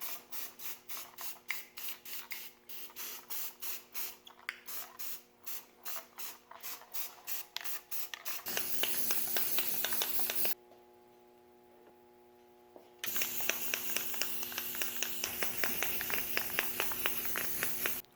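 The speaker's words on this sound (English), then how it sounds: "So we're gonna start hitting it with some of this paint right here." Spray gun bursts coating the doors, hood and trunk lid of a 1978 Chevrolet Monte Carlo, first as quick ticking pulses, then long steady hissing passes with a short pause between them, close and alone.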